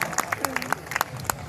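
Audience at a Hindi comic poetry gathering claps in scattered, distinct hand claps with a voice speaking over them, moderately close.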